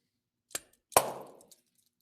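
A ball struck with metal tongs gives a sharp tap followed by a loud popping crack as it shatters, with the fragments ringing and rattling briefly afterward, heard alone.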